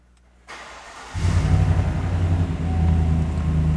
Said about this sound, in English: I'm gonna go ahead and start the truck